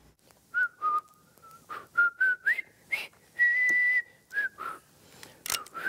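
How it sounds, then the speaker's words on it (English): A person whistles a short tune in a series of clear, bright, separate notes, some held longer than others, with brief pauses between phrases and no talking. "Can you whistle?"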